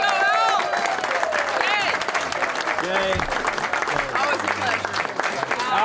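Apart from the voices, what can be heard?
audience applause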